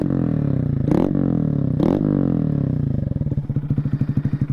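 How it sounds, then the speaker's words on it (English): A 2022 Honda Grom with modified exhaust and air intake idles with a deep, loping exhaust rumble, a couple of blips of the throttle, then settling into a steady pulsing idle. "it just has a lot more body to the exhaust note now."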